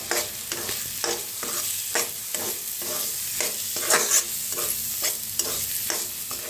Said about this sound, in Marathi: आता मसाला सगळा मिक्स करून घेऊया।